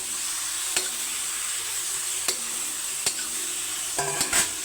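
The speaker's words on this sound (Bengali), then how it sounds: "মূলাটাকে সুন্দরভাবে নাড়িয়ে চড়িয়ে" Grated radish fries and sizzles in a pan with a soft, constant hiss, punctuated by a few sharp scrapes of a spatula stirring it, close and alone without talk.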